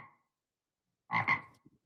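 A man imitates a frog with his voice, giving a short pair of throaty croaks after a moment of silence, close and clear with no other sounds.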